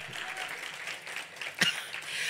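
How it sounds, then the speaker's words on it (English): Clapping from an audience at a cancer assistance charity gala, a soft, steady patter of hands throughout with one sharper clap standing out near the end. "Yes, clap."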